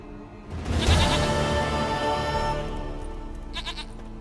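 A goat in The Witcher 3 lets out a long wavering bleat, loud and near, trailing off, then a second shorter bleat follows against a quiet game ambience.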